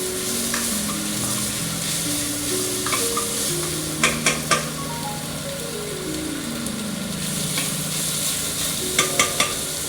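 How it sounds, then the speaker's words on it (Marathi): Onion fries in a pan for a light khichdi, a continuous loud sizzle under repeated stirring scrapes and a few sharp clinks of a spoon against the pan, with faint background music. "कांदा असा लाल होऊन द्यायचा, म्हणजे थोडासा फ्राय होऊन द्यायचा कांदा चांगल्या प्रकारे।"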